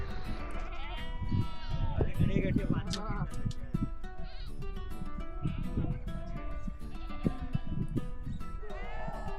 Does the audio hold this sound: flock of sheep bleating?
yes